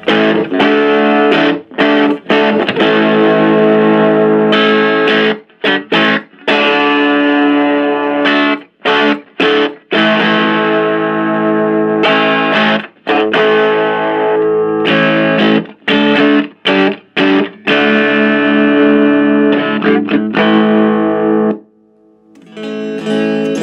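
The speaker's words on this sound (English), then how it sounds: "Tons of reverb." Distorted electric guitar through a tube amp with heavy reverb, loud and close, with repeated strummed chords whose washy tails ring on between short gaps and a brief pause near the end.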